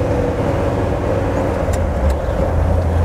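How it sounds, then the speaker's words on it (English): A 1970 Ford Bronco climbing a steep hill, its engine and exhaust giving a steady, loud low rumble that holds constant throughout, recorded from inside the truck. "nice note to the exhaust"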